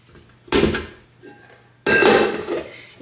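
A clean mixer bowl clanks and rattles against a kitchen counter and utensils in two loud bursts of handling, with quiet pauses between them.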